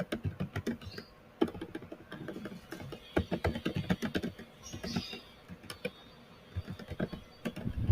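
Names being typed on a computer keyboard while making certificates in MS Word, rapid close key clicks in uneven bursts with short pauses between them.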